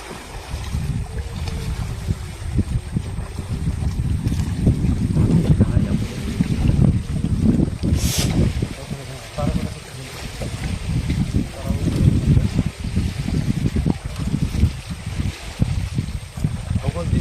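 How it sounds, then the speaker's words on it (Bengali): Strong storm wind gusts over a river in the Sundarbans, a close, continuous rumbling buffet with a boat nearby and voices speaking underneath. "তুফান হচ্ছে কিন্তু খুব"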